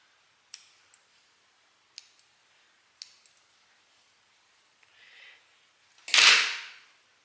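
Scissors snipping overlock seam thread on a sewing project: a few sharp separate clicks and snips, close and quiet, followed by a louder brief rustling swish near the end.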